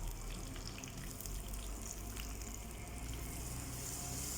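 Ground spice paste going into a pan of fish curry with curry leaves and being stirred in, giving a steady wet sizzle and sloshing texture throughout, close and fairly even with no talk.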